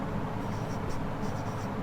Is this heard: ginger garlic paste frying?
no